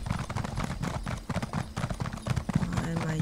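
Horse hooves clip-clop at a brisk, steady rhythm during riding in The Elder Scrolls Online, close and continuous, with a voice talking over them.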